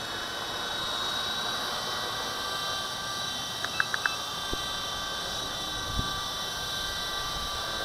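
A V913 remote-control helicopter hovers at a distance in a strong breeze, a steady faint whine over wind noise with a few brief clicks.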